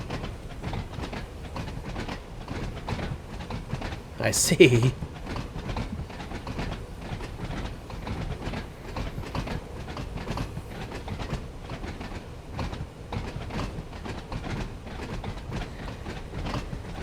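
A train rolls steadily through the night on the Isle of Wight line in the game Train Sim World 5, a continuous rumble with rhythmic clicking of wheels over rail joints. A brief louder burst sounds early on, and a short spoken remark comes partway through.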